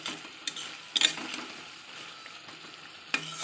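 Drumstick stems frying in a pan with a mustard and green chilli paste, stirred with a utensil: a soft steady sizzle under sharp scraping clicks near 1 second and again near 3 seconds, close and fairly quiet.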